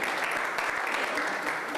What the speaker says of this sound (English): I think that applause was appropriate.